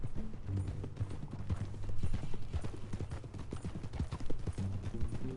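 Horse hooves clip-clopping at a walk in Red Dead Redemption 2, with a steady, even rhythm of close, distinct footfalls and a low ambient bed beneath them.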